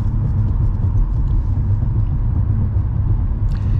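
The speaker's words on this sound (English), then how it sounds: "You can tell by the sound of the car," A steady, even low rumble of a car engine and road noise from inside a vehicle cruising at constant speed.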